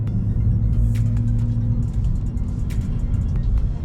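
2019 Dodge Charger R/T with a mid-muffler delete, heard from inside while driving as a steady low engine and road rumble with faint rattles.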